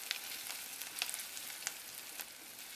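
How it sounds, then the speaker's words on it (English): Onions sizzle and crackle in a hot pan as they caramelize for stewed green beans, a steady close frying hiss with scattered sharper pops. "we're going to caramelize the onions"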